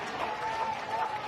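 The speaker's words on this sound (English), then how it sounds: "that'll draw the roar from the crowd" Home crowd at an Australian rules football match in the final quarter roaring and applauding after a goal puts the home side ahead, a dense, steady wall of cheering with a faint voice threaded through.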